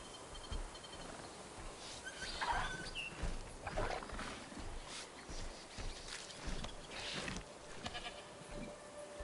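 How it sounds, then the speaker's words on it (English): Goat bleats rise faintly from a noisy background of ambient animal and environment sounds in the dinosaur park game Jurassic World Evolution 3, with several soft, wavering calls scattered across the stretch. "Oh, here, another goat."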